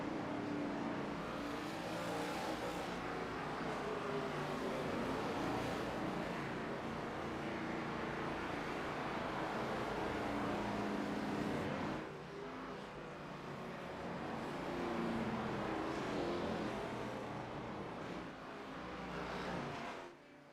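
An ARCA Series race car at Lime Rock Park streams along the front stretch, its engine a sustained roaring drone that dips briefly and swells again, a dense continuous wash of motor noise with no talk.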